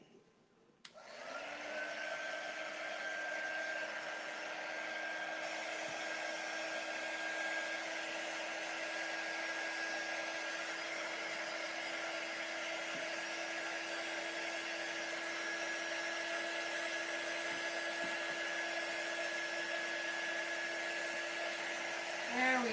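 A hair dryer switches on and runs at a steady, close whine for about twenty seconds, drying chalk paste wax, with a constant tonal hum and airflow hiss.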